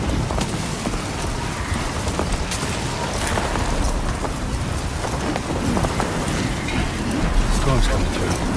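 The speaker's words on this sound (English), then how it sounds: "Storm's coming through." A storm in the video game Death Stranding 2 brings dense, loud, steady rain that fills the whole scene, with low rumbles of thunder rolling underneath, heard close and continuous.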